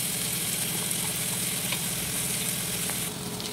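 Onions and green chilies sizzle and fry steadily in a hot pan with whole spices such as cinnamon and cardamom, a continuous crackling hiss close to the microphone with no talking.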